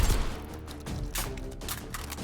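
Rapid shotgun fire in the video game Hot Dogs, Horseshoes & Hand Grenades, several quick, fairly faint blasts in a tight irregular burst over a low rumble.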